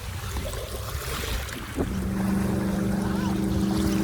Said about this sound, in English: the lapping waves, the sound of boats and ski boats in the background